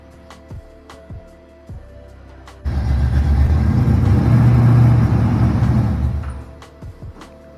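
A Subaru STI engine being jump-started cranks briefly, then catches into a loud, steady rumbling idle lasting a few seconds before dying away, with faint clicks before and after and no talk.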